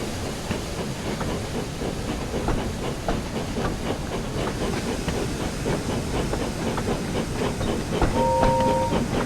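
A steady rumbling, clattering steam-train texture with hiss runs throughout, and a short two-tone whistle imitated by a person's voice rises near the end.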